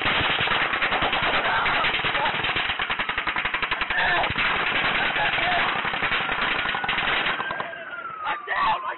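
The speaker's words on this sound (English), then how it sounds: "Shots are coming forward. Coming from gate 7." Sustained automatic gunfire during the Las Vegas shooting, recorded on a police body camera, fires as a long, rapid string of evenly spaced cracks that rings out at a distance, with voices partly audible.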